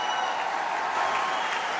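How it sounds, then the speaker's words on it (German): At the NFC 10 fight event, the crowd gives fighter Max Koga a big round of applause: an even, sustained wash of hand-clapping from a large audience, steady from start to finish. "big round of applause for Max Koga"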